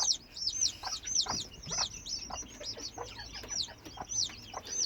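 Broody porcelain Serama hen at hatching time, making soft repeated clucks close by, mixed with high, rapid chick peeps chirping continuously over a quiet background.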